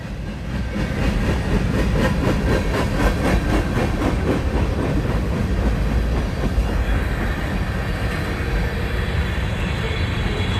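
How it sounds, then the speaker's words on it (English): A train thunders past very close and loud, wheels clattering in a rapid rhythm over a heavy continuous rumble. "as soon as the train goes through"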